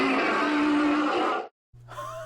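Scolipede, the Megapede Pokémon from a Pokémon video game, lets out a harsh, raspy, dinosaur-like cry, loud and sustained for about a second and a half, then breaks off before a shorter, tonal burst follows over a steady low hum.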